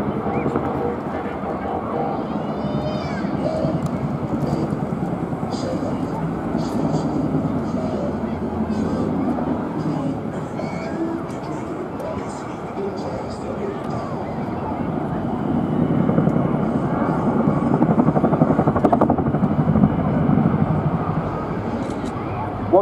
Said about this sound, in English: giving you the chance to really hear the fabulous sound of the Chinook's brake flap